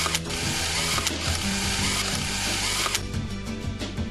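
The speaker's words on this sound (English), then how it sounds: "Tighten them to the specified torque as shown." Torque tool tightening bolts on a Bajaj Pulsar NS 200 engine: dense, steady mechanical ratcheting and whirring up close, with a few sharper clicks spaced through it.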